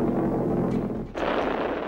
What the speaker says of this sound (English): His method, a new miracle weapon, the flying bomb.